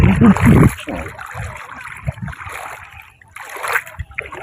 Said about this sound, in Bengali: সমুদ্রের মধ্যে দিয়ে যাওয়া